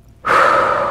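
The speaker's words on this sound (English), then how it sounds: "I gotta breathe." A single deep, loud breath drawn in sharply after a brief silence, then held as a steady airy rush close to the microphone.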